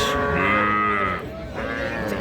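A heifer calf at a cattle market gives a loud, close moo that dips briefly and then resumes in a second lowing call.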